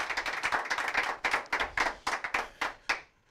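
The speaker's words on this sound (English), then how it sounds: "That's the biggest round of applause I think anybody's gotten on the show." Hands clapping for several seconds in a small room, a modest round of applause with distinct individual claps that slow and thin out toward the end before stopping.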